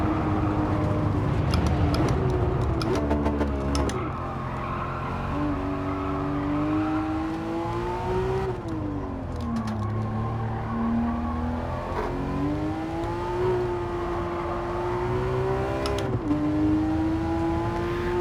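A Porsche engine in Gran Turismo 7 revs toward 9,000 RPM, screaming continuously, pitch climbing and dipping through gear shifts, loud and close with a synthetic racing-game character.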